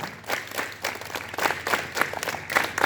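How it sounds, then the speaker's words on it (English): Students clap their hands at a morning school assembly, a steady, dense patter of many palms with rhythmic surges, filling the space continuously with no talk over it. "Clapping helps in better blood circulation."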